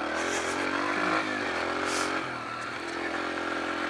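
A Yamaha TT-R125 dirt bike engine revving close by during low-speed stoppy turns, a steady buzzing drone that swells and then eases slightly, without talk.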